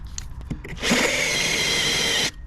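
A power drill burrs out a hole to about 9mm for rivnuts while fitting a campervan awning, a short close whine that starts abruptly, holds steady for about a second and a half, then cuts off, after a few light taps.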